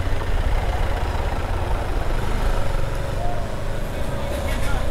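Car and motorcycle engines idle in a traffic jam after Holi on the road to Almora near Kausani, a loud, steady low drone of close engines with voices mixed in.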